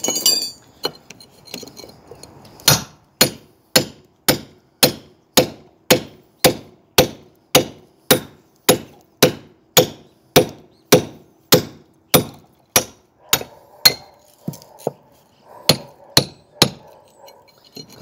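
Hammer blows break through wire mesh while a water heater flue is built, about thirty sharp metallic strikes in a steady, even rhythm, close and loud, with a little scraping first.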